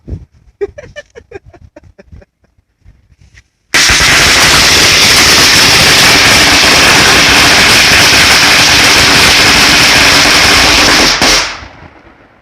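A string of 2000 firecrackers set off as a temple offering at a shrine, a loud unbroken crackling barrage lasting about seven seconds before it cuts off, preceded by a few seconds of quiet background chatter.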